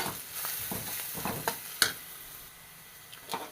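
Spice powders of chilli, coriander, turmeric and garam masala sauté in a pan for a vegetable parotha filling, giving a soft, steady sizzle broken by light scrapes and clicks of stirring up close.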